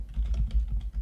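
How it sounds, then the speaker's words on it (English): Typing on a computer keyboard in a quick, steady run of soft close key taps, with no voices over it. "and now if I'm going to start typing"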